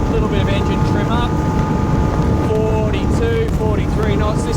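A 2021 Lomac Adrenalina 7 boat runs at speed inshore at around 40 knots, its engine a loud, steady roar mixed with wind rush and water noise throughout.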